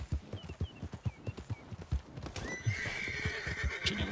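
Horse hooves clip-clop in a steady rhythm in Red Dead Redemption 2, then a whinny rises near the end.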